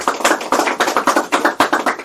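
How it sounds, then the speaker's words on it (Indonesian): A small audience claps for a guest at a seminar, a short burst of sharp, distinct hand claps in a quick uneven rhythm, close and clear with no talking. "Kita kasih tepuk tangan untuk Bapak Zainal Effendi"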